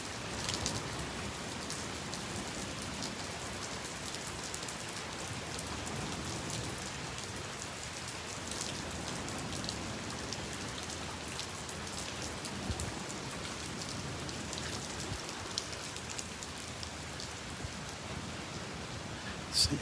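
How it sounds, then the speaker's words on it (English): Steady rain falls on a beach at Delnor-Wiggins, a dense, even hiss of drops hitting sand and surfaces, close and continuous with no letup, with no voices over it. "I'm just right on the edge of the rain."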